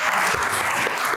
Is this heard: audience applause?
yes